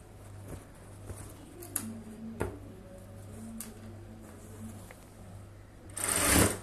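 A sewing machine runs steadily with a low hum and light ticking while stitching a cross-cup blouse, then a louder rustle of fabric swells near the end. Close and moderately quiet, with no talk.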